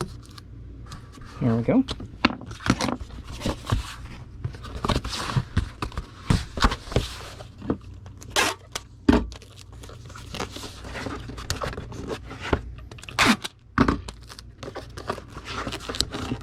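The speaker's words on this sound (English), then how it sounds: "Let's get that taped into place." Packing tape pulled and pressed onto a package, giving repeated crinkly rips and crackles at close range, with a person talking briefly.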